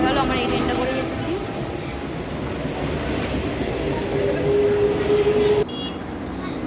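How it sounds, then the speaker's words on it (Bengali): A train pulls away from a station platform with a steady, loud rolling rumble and a thin, sustained wheel squeal, the noise dropping abruptly near the end. "ট্রেনটা চলে গেল, আমার এই ট্রেনটা করে এসেছি।"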